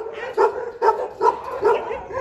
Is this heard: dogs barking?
yes